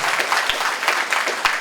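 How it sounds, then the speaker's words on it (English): A panel audience at a horror fan convention claps in a brief, steady round of applause, moderately distant and without talk over it. "thank you for clapping"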